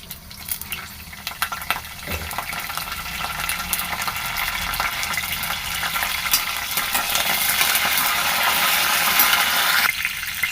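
Curry leaves frying in hot oil with fenugreek seeds for bottle gourd pulusu, a continuous loud sizzling crackle that grows slightly stronger toward the end, with no talk.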